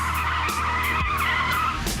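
A Mercedes-AMG car drifting, its tires letting out loud, sustained screeching squeals in several rising and falling waves over an engine roar, close and dominant throughout.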